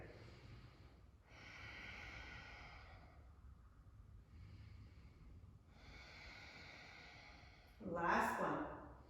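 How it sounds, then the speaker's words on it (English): Slow ujjayi yoga breaths in a gentle yoga session: two long, hushed, ocean-like breaths spaced apart, close and soft, followed by a short louder rustle or exhale at the end. No speech. "We're going to take 3 more Ujjayi breaths here."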